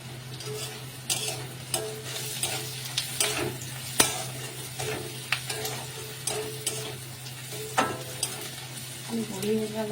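Food stirred in hot salted oil in a pan, a steady sizzle beneath repeated sharp clinks and scrapes of a utensil against the pan, close and moderately loud, with a constant low hum in the background.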